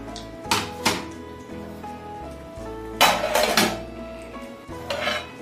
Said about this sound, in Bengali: এই যে আমি এখন পরিবেশন করছি